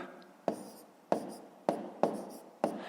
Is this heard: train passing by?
no